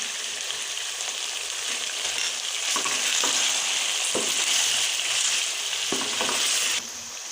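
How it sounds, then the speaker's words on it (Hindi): Chicken pieces fry with ginger garlic paste in a karahi, giving a dense, loud crackling sizzle up close, with a few sharp stirring knocks and no speech. "हम इसमें अदरक लहसुन पेस्ट शामिल करके अच्छी तरह फ्राई कर लेंगे।"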